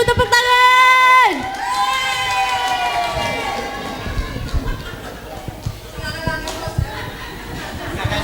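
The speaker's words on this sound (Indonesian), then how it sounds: "Tepuk tangan Bu, tepuk tangan" An audience at a Quran khataman and imtihan ceremony in Slawi claps after a brief sustained electronic tone, with scattered clapping and a crowd murmur continuing at moderate volume.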